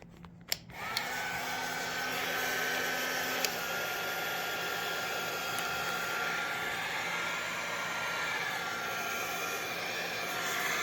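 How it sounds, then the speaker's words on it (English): A heat gun blows hot air onto poly water pipe, a steady loud hiss of rushing air that starts after a click and runs unbroken to the end. "put them on the end, get yourself a heat gun"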